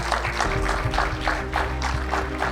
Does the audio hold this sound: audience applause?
yes